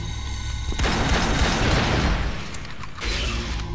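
Heavy Magnum-style pistol shots in the video game Unreal 2 boom out loud and close, one blast after another in a dense burst, with a second volley near the end and no talking over them.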